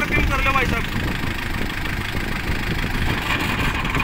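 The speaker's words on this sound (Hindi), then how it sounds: "बाकी ट्रैक्टर की साउंड चेक करो" A Kubota tractor engine runs steadily at about 1800 rpm with a rough, continuous mid-low drone, while people talk nearby over the noise.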